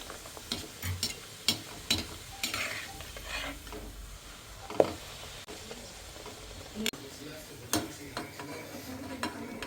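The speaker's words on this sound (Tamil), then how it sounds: "எல்லா மாவு ஆகிற வரைக்கும் ஒன்றுன்னா எண்ணெயில் போட்டு எடுத்துருங்க." Palak (spinach) puri frying in hot oil, a steady bubbling sizzle with soft clinks and scrapes of a utensil against the pan, close and moderately quiet throughout.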